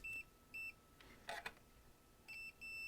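A multimeter on a continuity test gives short, faint, high electronic beeps in a broken pattern, with a few small clicks from the probes between them.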